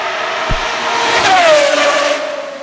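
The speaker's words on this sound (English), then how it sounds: "being able to experience the full volume of this car is a rare treat" A Pagani Huayra R Evo Roadster on a racetrack roars loudly past at full volume, its engine note rising and sweeping as it goes by, with a brief thump near the start and no talking.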